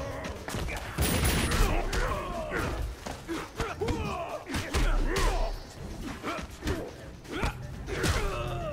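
Stryker fires bursts of gunshots during a Mortal Kombat 9 fight, sharp cracks and thumps scattered among grunts and fighting effects, with a loud burst of shots early on.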